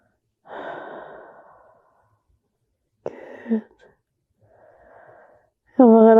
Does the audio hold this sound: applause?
no